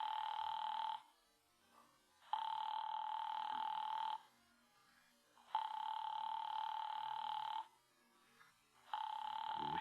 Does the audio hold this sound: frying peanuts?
no